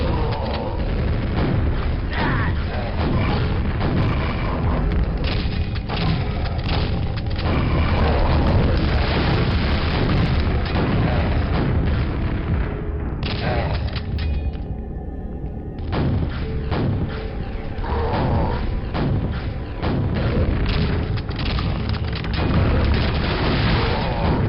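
Rocket and grenade blasts from the game Quake: Arcane Dimensions, a dense, loud barrage of booming explosions and thuds following one another almost without pause, with a brief lull partway through.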